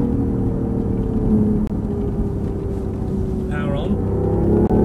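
A 2015 BMW i8 lapping Eelmoor Circuit in Aldershot, a steady loud engine and road drone from inside the car with a rising tone, while an instructor talks over it.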